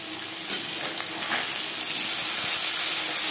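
Rohu fish pieces fry in hot oil in a pan, giving a continuous bright sizzle with a couple of brief clatters early on, steady and close.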